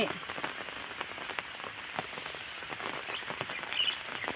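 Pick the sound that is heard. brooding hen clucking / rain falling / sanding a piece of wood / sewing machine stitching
rain falling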